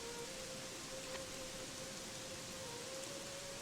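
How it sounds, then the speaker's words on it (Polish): Steady rain in the fantasy role-playing game Gothic 3, a constant dense hiss at low level with a faint sustained tone over it and no talking. "Jaki ten deszcz jest wkurzający"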